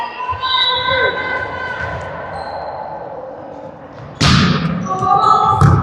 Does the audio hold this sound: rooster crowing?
no